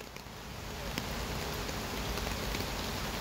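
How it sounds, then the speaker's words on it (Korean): Heavy rain falling outdoors on a dog walk, a broad steady hiss of drops with occasional sharper patters, close and continuous with no speech. "비 많이 오잖아."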